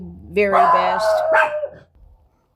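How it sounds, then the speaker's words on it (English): Dogs barking with a sustained, howling yelp close by, drowning out a voice that speaks a few words at the start. "Sorry about the dogs barking."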